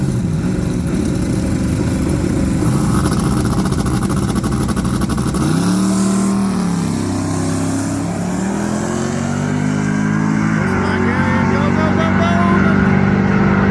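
A Trans Am no-prep drag car on a Main Street drag strip pass, its engine loud and continuous: a rough, busy roar first, then a deeper shifting drone as revs rise and change pitch, close and unbroken throughout.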